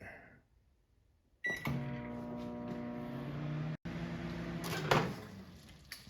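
A microwave oven heating peanut butter fudge starts up with a click and settles into a steady, close electrical hum with a rattling turntable drone, briefly cut off and resuming, with a clunk near the end.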